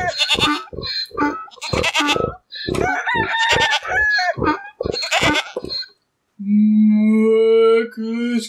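A rooster crows loudly once, a long harmonic call following several seconds of French storytelling speech, with no talk over the crow itself, in a told farmyard fable where a donkey brays and a cow follows.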